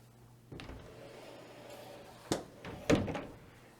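Doors to a home server closet open with a soft click, then a couple of louder wooden thunks and clacks as the panels swing and bump, set against a low steady equipment hum.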